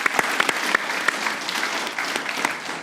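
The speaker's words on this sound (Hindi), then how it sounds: "विकी भाई के लिए तालियां होनी चाहिए भाई साहब" Studio audience clapping on a cricket discussion show, a continuous wash of many hands with a few distinct close claps, steady and fairly loud with no talk over it.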